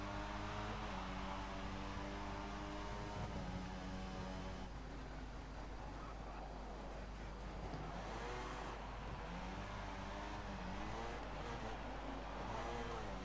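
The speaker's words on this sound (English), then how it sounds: "This car sounds like a motorbike." Formula 1 car engine in the F1 2014 racing game, a steady high-pitched buzzing drone with rising and falling revs throughout, loud and continuous with no talk.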